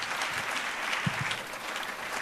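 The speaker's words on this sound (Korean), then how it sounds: "목사님 나오실 때 우리 박수로 따뜻하게 환영하겠습니다" A church congregation claps warmly to welcome a pastor to the pulpit, a continuous wash of applause with a couple of close, louder hand claps midway.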